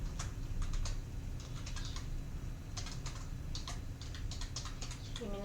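Computer keyboard typing during Microsoft Word text entry, a run of quick uneven key clicks in bursts with short pauses, close and clear over a low steady hum.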